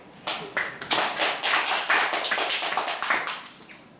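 Applause from a small audience at a student ultrasound workshop presentation: a brisk patter of individual hand claps, fairly close, rising quickly and tapering off near the end.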